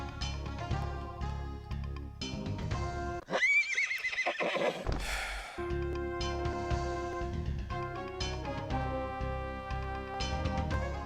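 A horse whinnies loudly in a video game, in the middle of a busy stretch of layered music, with no talking.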